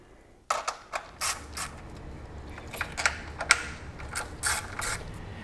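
A ratchet clicks in short bursts while studs are backed out of a 2005-2009 Mustang GT 3-valve 4.6L V8 engine during teardown, with several separate crisp ratcheting runs close by in a quiet workshop.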